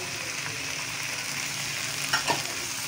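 Green chilli and chopped ginger fry and sizzle in a pan with a steady hiss, and a spoon stirs and scrapes briefly near the end, close and alone with no talk.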